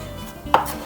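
A single sharp knife chop on a cutting board while parsley is chopped finely, one brief close tap.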